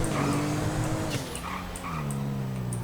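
A dog in a video game whimpers and yips after being hit by a car, several short high cries over a running car engine, fairly close and loud, with no talking.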